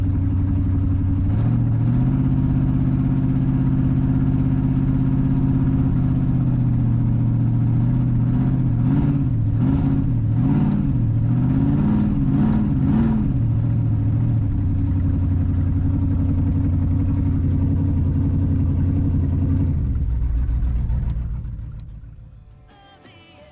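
A 1940 Chevrolet Special Deluxe engine under way: a loud, steady low rumble from inside the car, rising and falling briefly as it revs midway, then settling before fading out near the end.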